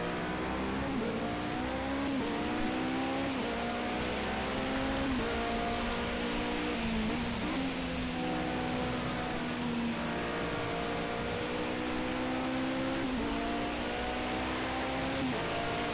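Toyota TS050 Hybrid LMP1 race car in Project CARS 2 at Spa-Francorchamps in snow and spray, its engine droning loudly and steadily throughout with rising and falling pitch through repeated gear changes and revs, with no talk.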